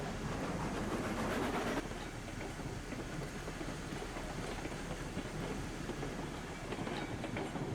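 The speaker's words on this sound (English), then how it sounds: "This engine was pushing the train." A locomotive pushing uncoupled cars in the Railroads Online game, a steady rumbling rolling train noise with rhythmic wheel clatter, moderately faint and continuous with no talk.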